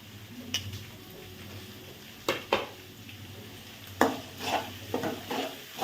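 Carrots and beans being stir-fried in a pan over high flame for paneer fried rice, with a steady low sizzle under repeated scraping stirs and spatula clinks against the pan, no talking.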